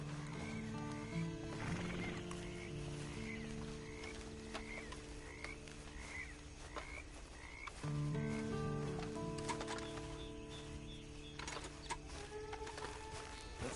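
Horse neighing and whinnying in the Western video game Red Dead Redemption, repeated calls over an ambient soundscape with croaking frogs and occasional hoof clip-clops, no talking.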